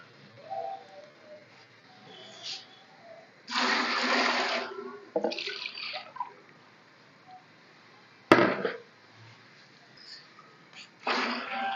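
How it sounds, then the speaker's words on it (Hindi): Water poured into a pot of spiced black chickpea pulao masala comes in several bursts of splashing gush, with a sharp clank of the vessel between pours and quiet gaps in between. "मैं इसके अंदर पानी डाल रही हूँ"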